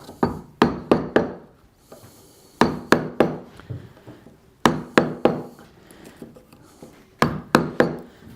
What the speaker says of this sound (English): we have a good flat surface to put the chisel against. And we'll cut down along the sides of the pins.